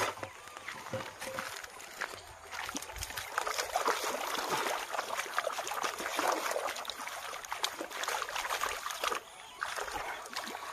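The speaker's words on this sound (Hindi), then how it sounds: "अभी मुंह हाथ धो लेता है" Water trickles and splashes steadily as a man washes his face and hands outdoors in a hill village, a close, continuous watery patter with small splashes throughout.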